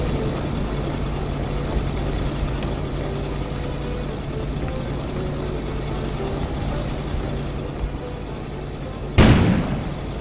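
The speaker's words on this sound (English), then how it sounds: "An explosion suddenly occurred outside." In the video game Kona, a steady low rumbling drone runs throughout, then a sudden sharp explosion bursts outside near the end, loud and brief with a short decaying tail.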